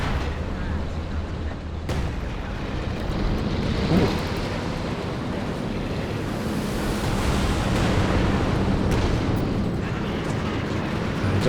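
Zeroing artillery shells burst around an immobilized T-34 in Company of Heroes 2, heavy rumbling explosions rolling continuously over a noisy battlefield din with a few sharper impacts.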